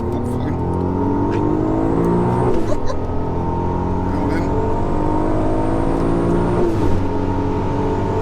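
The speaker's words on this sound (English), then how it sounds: "big turbo, it's kind of the old school turbo lag, and then it whooshes in" A turbocharged Audi S4 with a big R32 turbo accelerates hard, the engine drone climbing through rising pitch sweeps with a brief gearshift dip, loud and close from inside the car, a voice talking over it.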